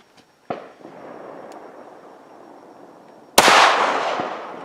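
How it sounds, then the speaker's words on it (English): A .380 hollow-point round is fired into a block of ballistic gel: a small sharp knock first, then one loud, close gunshot with a long ringing, reverberant decay. "I'm going to try and shoot it at pretty much the exact same spot"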